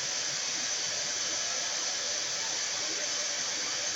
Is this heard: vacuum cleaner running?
yes